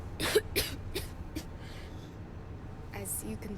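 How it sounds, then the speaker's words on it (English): A Starfield game character coughs several times in quick succession, harsh and close, then clears their throat again after a short pause. "As you can probably tell, I've got this bad cough."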